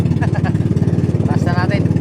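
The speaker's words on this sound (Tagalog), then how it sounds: "Palya makina ko, ah. Itong na makina to, ah. Palya." Close, loud engine with a rough, uneven pulsing beat, misfiring as it runs, with someone talking over it.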